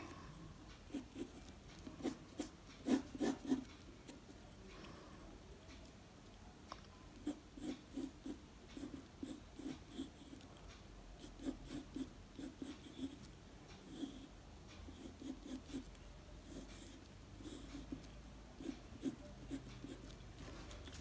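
Pencil sketching a flower lightly on paper in a drawing class, faint rapid scratchy strokes in repeated short bursts, quiet and close throughout.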